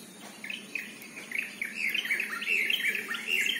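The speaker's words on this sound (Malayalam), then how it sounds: "വീണ്ടും കിളികളുടെ ശബ്ദം വന്നു തുടങ്ങി." Birds chirping outdoors in a garden of pruned bougainvillea, a run of quick high tweets that starts thin and grows denser and louder, with a faint insect hum beneath.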